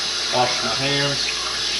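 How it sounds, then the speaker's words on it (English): Tap water running steadily while hands are washed at a kitchen sink during pasta making, a close, continuous hiss, with a voice briefly heard over it. "Wash my hands."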